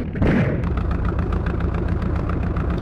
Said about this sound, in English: And as you can see, my engine has started.